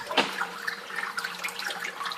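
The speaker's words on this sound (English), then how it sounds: "We're starting to get a trickle of water" Water trickling into a reef aquarium's overflow box, a soft, continuous splashing and gurgling heard close by, with one brief louder splash near the start and no talk.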